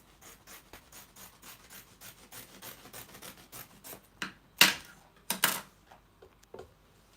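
Scissors snip through excess fabric while cutting out a beginner's top with puffy sleeves, a steady series of soft rasping cuts followed by a few louder, sharper snips near the end, close and without talk.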